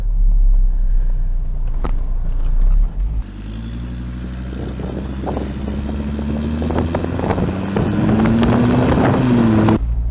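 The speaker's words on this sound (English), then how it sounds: "Engine is nice and smooth." A 2004 Volvo V70R turbo engine drones steadily from inside the cabin on a road test, its pitch climbing slowly as the car accelerates, with rumbling wind noise at the start.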